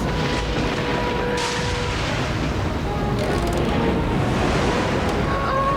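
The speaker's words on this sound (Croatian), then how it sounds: "Ali valovi su previsoki!" High ocean waves surge and roar in a steady, dense wash with wind gusting across the microphone, loud and continuous throughout with no pause.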